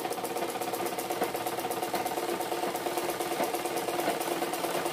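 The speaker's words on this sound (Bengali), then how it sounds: "ঘুরিয়ে নিলাম, ঘুরিয়ে আমরা ডাবল করে সেলাই করে নিচ্ছি।" A sewing machine runs continuously at a steady, rapid rhythmic clatter while double-stitching a thin round fabric cord, close and fairly loud with no talk.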